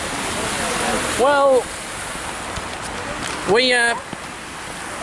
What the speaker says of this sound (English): now, look, tonight, Salou has got the flash flooding